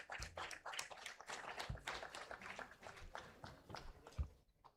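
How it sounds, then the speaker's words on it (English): Applause from a conference audience at a food entrepreneurs' conclave, sounding as dense, uneven clapping with a few sharp louder claps scattered through, steady for a few seconds before thinning out at the end. "Kindly keep the applause going."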